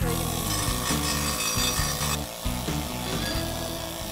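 A power tool cuts through soft cast iron in a pan-making shop, a loud continuous grinding whine with a steady rapid chatter underneath, briefly dipping midway before carrying on.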